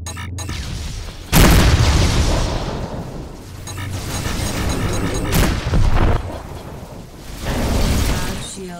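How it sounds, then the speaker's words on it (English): Missile explosions in the space-combat game Rebel Galaxy Outlaw: a heavy boom lands after a short pause, then a rumbling, crackling aftermath with a second loud burst and rolling blasts, close and dense with no voices. "Missile inbound."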